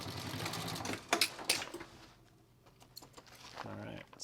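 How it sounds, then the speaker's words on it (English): A heavy walking-foot sewing machine stitches a shopper bag in short rapid bursts, fairly close, with pauses between runs and a voice-like sound near the end. "Thankfully, I have this walking foot machine"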